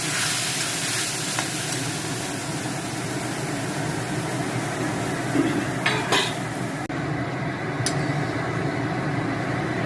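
Ginger and cumin fry in a pan, then chana dal goes in, giving a loud, dense, continuous sizzle with a few sharp clinks of a utensil against the pan near the end, and no talking.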